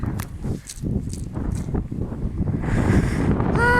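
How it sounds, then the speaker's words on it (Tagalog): Strong, very cold wind at a dock on the Limfjord in Denmark buffets the microphone in heavy rumbling gusts, with a faint whistling tone near the end. "Sobrang lamig, sobrang mahangin."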